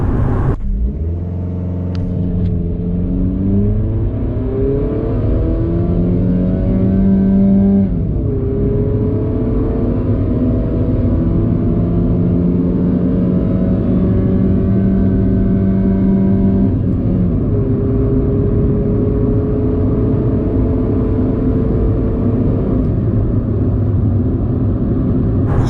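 1990s Honda Civic accelerating down a drag strip, its engine droning loudly and rising in pitch through several gear changes, with a steady close rumble throughout.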